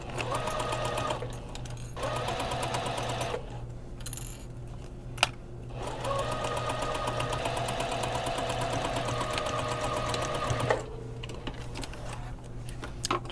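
A serger runs along a dress seam on a shirred dress with puffy sleeves, a close rapid mechanical whir in several bursts separated by short pauses and a soft click.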